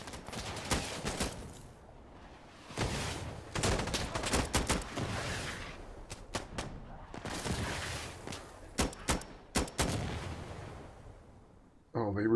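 Gunfire in the video game Insurgency: Sandstorm comes as repeated sharp shots and bursts, some in rapid clusters, loud and near, with gaps between and a voice talking over part of it.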